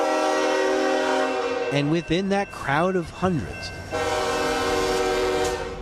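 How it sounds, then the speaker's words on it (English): A train pulling in near its final stop sounds a long horn with several drawn-out blasts over a steady rumble of railcars, loud and close, while a narrator talks over part of it. "as the train neared its final stop."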